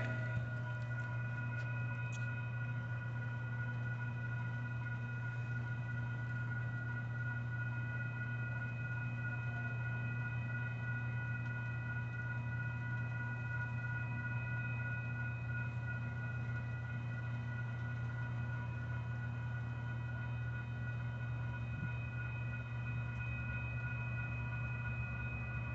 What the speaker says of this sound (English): we got a southbound UP train. Southbound Union Pacific